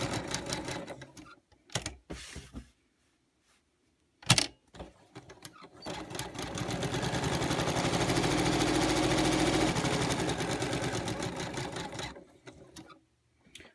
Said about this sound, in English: I've got my needle set to stop in the down position, so that way I can just pivot on the corners.